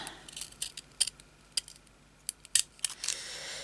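Scissors cut through thick paper for a small handmade craft book, giving a series of quiet, crisp snips in an uneven rhythm, with a few closer, sharper cuts near the end.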